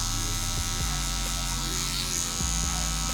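A close, steady electric hair clipper buzzes continuously while it cuts curly hair during a medium fade, with a few faint clicks and shifts in tone as it moves. No voices are heard.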